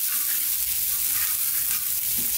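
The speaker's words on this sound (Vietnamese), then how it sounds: "Sả băm ở đây mình dùng 2 muỗng canh phi cho nó thơm vàng" About two tablespoons of minced lemongrass fry in hot oil for a vegetarian braised straw mushroom and tofu dish, making a steady, close, bright sizzle without talk.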